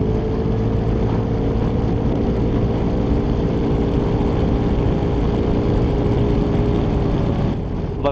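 Aprilia SR GT 400 scooter engine droning steadily at high road speed, a continuous even hum with wind rush that holds level throughout and eases slightly at the very end.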